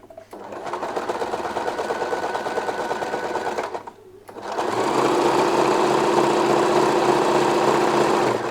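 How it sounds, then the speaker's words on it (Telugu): Sewing machine running steadily as it stitches a thin folded edge on a layered ruffle saree, a continuous whirring drone with a brief pause midway before resuming louder. "ఇలా చేయడం వల్ల దారాలు అవి బయటకు రాకుండా నీట్గా కనిపిస్తుంది కాబట్టి ఇలా నేను ఒక స్టిచ్ వేసేస్తాను."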